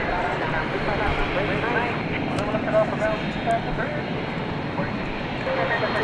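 Jet airplane engines at DFW airport give a steady, broad roar that fills the whole stretch, with a faint voice murmuring underneath.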